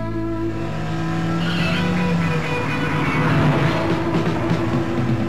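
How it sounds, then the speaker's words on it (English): A Porsche 935 Turbo race car engine revs hard toward redline, a loud sustained mechanical roar with rising pitch and a hint of tire squeal, close and steady throughout. "エンジン回転をレッドゾーンに上げて、光るボディが駆け抜けた。"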